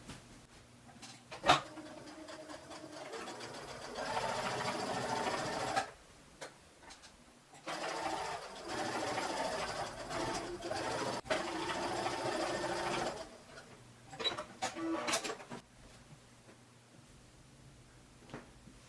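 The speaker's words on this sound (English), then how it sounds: "I'm going to sew a basting line where I want the hem to be." A sewing machine runs a basting line along the hem of stretch fabric in bursts of rapid, steady stitching separated by short pauses and a few clicks, close and moderately quiet, with no talk.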